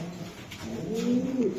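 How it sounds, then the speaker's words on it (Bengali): A young light blue checker hen racing pigeon coos softly up close, a low rolling call that rises and swells near the end over quiet room background. "একদম লাইট কালার ব্লু চেকার একটা মাদি কবুতর"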